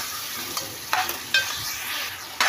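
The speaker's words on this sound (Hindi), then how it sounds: "गोश्त को अच्छे से भूनूंगी क्योंकि गोश्त में से पानी छूटेगा" Mutton pieces being stirred and fried in a pan, a continuous soft sizzle broken by a few scraping stirs of a spoon, close and moderately quiet, with no talking.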